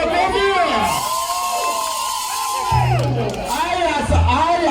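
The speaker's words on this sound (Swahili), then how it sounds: "Wapi makofi?" Crowd at an ohangla queen crowning event cheering and shouting with high whoops and rising voices, loud and close, with no clear clapping standing out.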